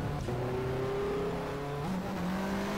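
Race car engine in the BTCC 1997 touring car racing game, a steady loud drone rising in pitch as the car accelerates, with a brief gear change near the end and no talk.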